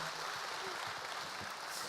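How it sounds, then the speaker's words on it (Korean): Audience applause at a televised Korean talk show on considerate driving culture, a dense, steady wash of clapping from a crowd, fairly quiet and continuous. "다시 한번 박수 부탁드리겠습니다"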